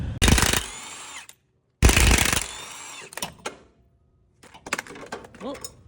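An impact-style power tool removes the bottom strut nuts on a Ford Ranger. Two loud buzzing bursts of about a second each are followed by shorter rattles and clanks, close by, and a voice speaks briefly near the end.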